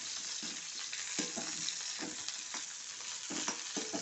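Ingredients for an okra buttermilk curry fry steadily in a pan, a continuous close sizzle broken by repeated scraping stirs at an uneven rhythm, with no voices.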